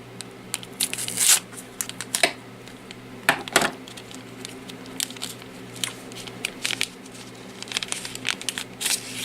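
Cutting open and tearing the packaging around an M14 spring guide, with sharp snips and bursts of crinkling plastic and paper, irregular and close, over a steady low background hum.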